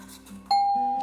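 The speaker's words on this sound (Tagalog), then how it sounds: "Saglit lang, may nag-doorbell." A doorbell chimes once, a clear sustained electronic tone that rings out and slowly fades, following some faint background murmur.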